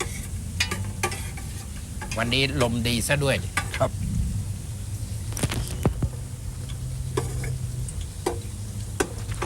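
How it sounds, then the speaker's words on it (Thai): Hot oil sizzles steadily in a pan with garlic frying, with scattered clicks from stirring and a brief bit of someone talking partway through. "พอน้ำมันร้อนเอาหัวกระเทียมใส่ลงไป เพื่อให้กลิ่นมัน หอม"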